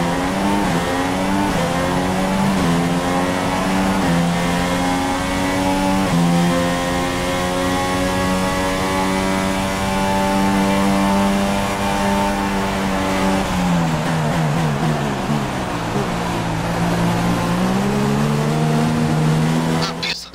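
Formula 1 car on fresh tyres in F1 2016 at Abu Dhabi, a loud high-pitched engine screaming through rising and falling revs and gear shifts, with someone talking over it.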